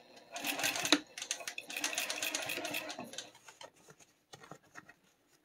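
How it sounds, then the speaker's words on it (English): A sewing machine top-stitches pleats in fast rattling bursts that run close and clear for about three seconds, then slow into a few scattered stitches and clicks. "keep these pleats together and top stitch the top"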